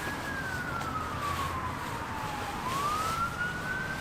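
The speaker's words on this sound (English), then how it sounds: "Police sirens." A single police siren wails steadily, its pitch sliding down and then rising again, over a constant low rumble of traffic near a roundabout.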